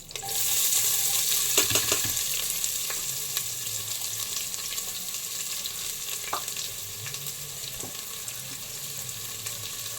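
Curry leaves and onion are dropped into a pan of hot oil with cinnamon, cloves and spices for a chicken gravy, setting off a loud burst of frying that settles into a steady sizzle with occasional stirring clinks.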